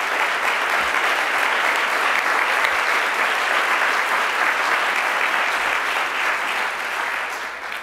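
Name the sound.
audience applause at literary awards ceremony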